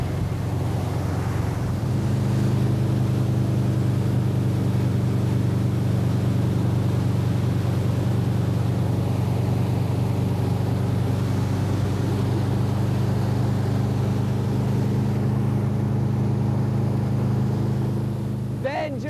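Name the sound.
motorboat towing wakeboarder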